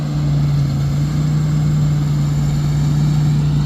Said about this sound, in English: Dad's actually got the tractor out and he's getting it ready